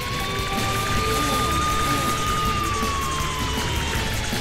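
A steady police siren tone holds high above heavy rumbling traffic noise, continuous and loud throughout.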